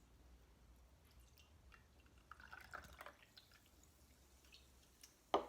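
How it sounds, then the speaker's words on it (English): Water is poured into a glass, a faint, soft trickle with scattered drips and bubbling that swells briefly midway and ends with a small sharp knock. "The first step is to pour the water in the glass."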